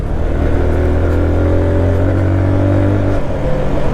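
A Benelli Leoncino 125 motorcycle engine drones steadily at high revs while riding, loud and close throughout with a brief dip in pitch near the end.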